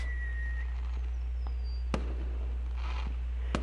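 Fireworks in the visual novel game Angels With Scaly Wings: a faint rising whistle, then two sharp isolated bangs about one and a half seconds apart over a quiet steady background.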